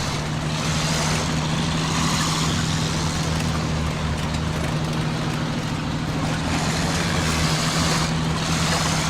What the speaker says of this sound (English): And the engine's struggling.